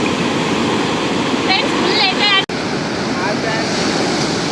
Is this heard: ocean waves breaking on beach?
yes